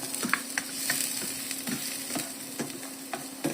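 Chicken neck adobo fries in a kawali pan, with a steady sizzle under repeated scraping stirs at an irregular rhythm, close by.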